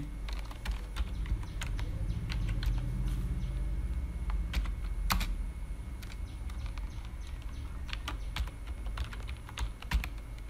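Keys clatter on a computer keyboard in steady bursts of typing, with a low hum underneath throughout.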